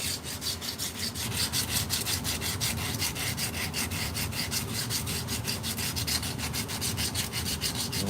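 Hand sanding with 80 grit sandpaper gives a brisk, rhythmic back-and-forth scratching with steady strokes, close and moderately loud, with no talking.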